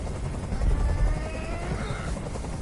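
A helicopter hovers nearby in Detroit: Become Human, its dense rotor roar and whine holding at a steady loud level with no speech over it.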